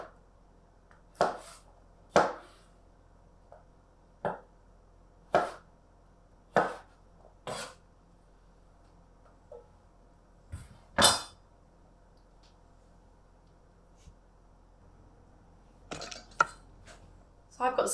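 A knife chops vegetables for a salad on a cutting board in a home kitchen, giving about a dozen sharp, separate knocks at an irregular pace with short pauses between them, close and clear with no talking.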